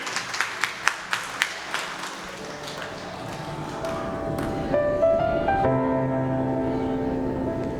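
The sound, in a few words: audience applause welcoming a little sister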